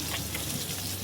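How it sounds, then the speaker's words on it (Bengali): Chopped onions land in a pan of crisp-fried mola fish and sizzle with a soft, steady hiss, quiet and close with no voices. "এই যে সেই পেঁয়াজগুলোকে দিয়ে দিচ্ছি।"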